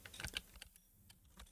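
A computer keyboard typed on while writing a document in Microsoft Word, heard as a quick burst of soft key clicks that thins to a few scattered taps, close but very faint, with no voices.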